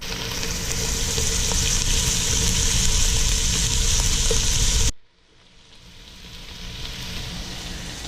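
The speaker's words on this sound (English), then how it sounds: "Cook the onions for 3 or 4 minutes till they start going slightly translucent." Onions cook in a pan with a steady loud sizzle that drops off sharply partway through, then a softer hiss rises back gradually.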